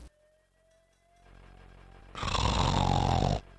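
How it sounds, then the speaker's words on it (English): A drunken man snoring in the game The Dagger of Amon Ra, one long loud rasping snore rising after a quiet stretch and cutting off abruptly. "He snores in response."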